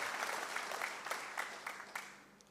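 A church congregation claps steadily during a sermon, a dense patter of many hands that gradually fades and thins out toward the end.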